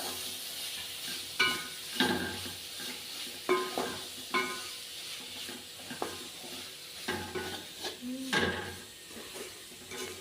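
Ground masala paste stirred into a cooking pan for a side dish, with intermittent scraping and clanking strokes of a spoon against metal over a soft sizzle, nearby and moderately quiet, no voices.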